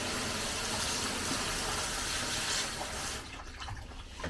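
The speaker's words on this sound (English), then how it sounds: "take my fresh water and spray down the cabinet" Fresh water sprays steadily down the inside of a homemade vapor blaster cabinet, a continuous hissing wash that drops off sharply near the end and leaves a quieter trickle.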